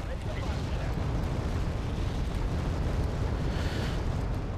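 Artillery bombards light anti-air units in Wargame Airland Battle, a continuous heavy rumble of blasts and booms that holds at a steady, dense level for several seconds.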